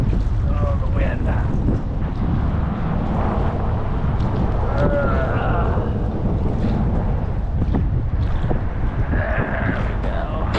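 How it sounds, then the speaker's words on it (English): Steady wind rushes and buffets across open water beside a pedal kayak being rigged for fishing, a constant roar with no break for the full length, with faint gusting texture and no spoken words. "Oh, the wind."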